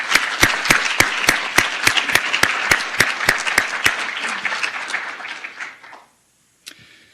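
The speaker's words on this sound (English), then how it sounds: "Please join me in a grateful round of applause for all who contributed to making this event come together." An audience gives a round of applause at an academic symposium, loud clapping with one very close, regular clapper dominating, then stopping abruptly before a short pause.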